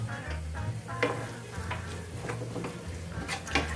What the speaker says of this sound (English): we will add a little bit of salt, about a teaspoon of salt, and give them a good stir